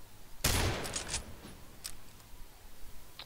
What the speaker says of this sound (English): we'll see how much damage it does to him with one shot to the chest